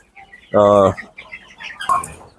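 Chickens on a poultry farm: one loud, close, harmonic cluck-like squawk rises sharply, followed by a shorter, fainter call in a quiet barn setting.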